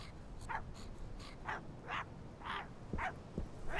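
A dog in the video game My Friendly Neighborhood barks in a run of short, fairly faint yips and bow-wows, spaced about half a second apart, with a hint of whimpering.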